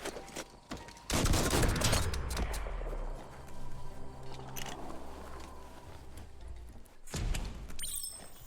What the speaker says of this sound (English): Rapidly fire a burst of bullets after double jumping.